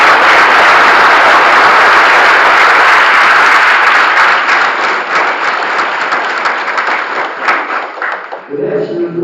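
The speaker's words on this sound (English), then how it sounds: "Please give them a round of applause." Graduation ceremony audience applauding honorees, a loud dense burst of clapping that gradually thins and fades over about nine seconds before a voice begins.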